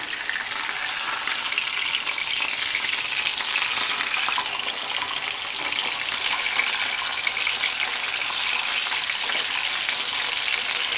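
Saltimbocca with bacon fries in a pan, giving a steady, close, loud sizzle and crackle that runs unbroken with no talk.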